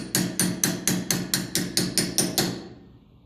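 A hammer strikes a chisel onto the steering box nut of a Massey Ferguson 35 tractor, about ten sharp metallic blows in an even, quick rhythm. Each hit rings briefly, and the last ones fade away.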